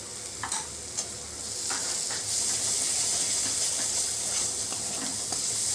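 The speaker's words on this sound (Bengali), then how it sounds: "তো মশলাটাকে আমি অনেকক্ষণ ধরেই কষিয়ে নিয়েছি।" Masala for restaurant-style chana masala sizzles and fries in a pan while a utensil scrapes and stirs it, loud hissing close up with a few sharp scraping clicks and no talk.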